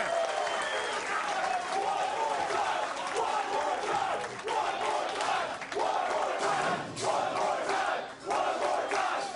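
A crowd at a professional bowling tournament in Bethlehem applauds and cheers loudly and continuously, with a commentator talking over the noise.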